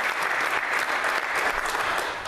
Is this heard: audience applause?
yes